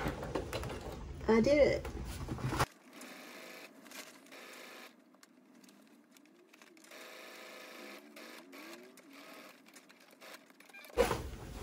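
A sewing machine with a walking foot stitches a box cushion cover in a fast, close, steady mechanical whir with a few stops and starts, while a person speaks briefly at the start and the end.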